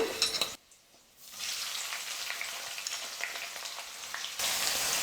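Thinly sliced long onions (two large) sizzle and fry in hot oil alongside masala-coated chicken legs for chicken varuval, a steady close crackle that dips briefly then returns strong, with no voices.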